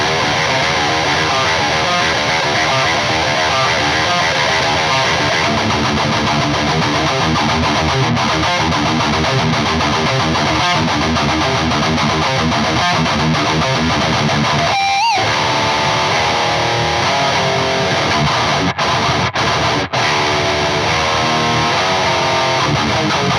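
A Gibson 50's Standard Les Paul electric guitar plays metal with heavy distortion, loud and dense riffing that runs almost without a break, except for one brief cut about two-thirds of the way through.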